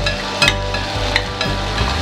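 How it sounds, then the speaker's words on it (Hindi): Onion and tomato frying in a pan for a paneer paratha filling, a steady close sizzle with a few sharp clinks from a spoon against the pan. "इसमें हम अब टमाटर ऐड करेंगे. इसको भी अच्छे से भूनना है"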